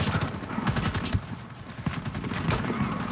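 Rapid gunfire from the Warface shooter on Nintendo Switch crackles in dense, overlapping bursts of shots, loud and close and continuing throughout with no pause.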